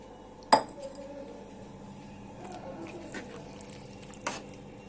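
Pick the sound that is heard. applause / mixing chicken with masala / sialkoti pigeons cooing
mixing chicken with masala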